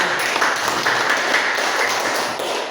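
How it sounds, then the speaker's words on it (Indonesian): Audience at a work-motivation training session clapping together, a dense, fairly loud burst of applause that holds steady and then eases slightly toward the end. "tepuk tangan dulu dong"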